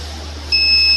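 A science project flood alarm at a school science symposium lets out a steady high electronic beep. The tone starts halfway through and holds on at a loud, even level over a low constant hum.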